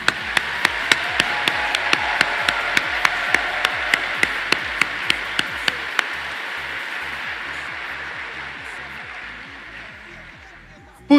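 Audience applause with sharp, evenly spaced claps standing out over a broad wash of clapping that gradually fades toward the end.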